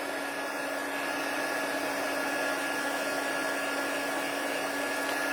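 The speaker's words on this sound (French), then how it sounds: "Je vais commencer un petit peu par l'endos, là, en attendant que mon pistolet chauffant soit réchauffé" A heat gun warms up, blowing a steady, loud rush of hot air with a constant whine, close by and uninterrupted, with no voices.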